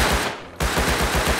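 Automatic gunfire in the video game Rust, a loud rapid burst of shots with a short gap before the rattle resumes.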